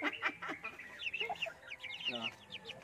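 Giant shamo, dominant CZ and native chickens clucking and calling at a farm, several birds close by with short bright bursts, while people talk over them.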